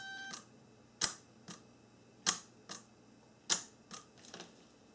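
A repaired door lock actuator from a 1994-1997 Honda Accord runs on a bench, giving several sharp, close clicks and whirring bursts spaced about a second apart, with quiet gaps between.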